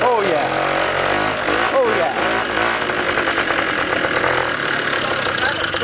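A Rokon motorcycle engine runs loudly and roughly, with rising revs and a voice exclaiming briefly over it.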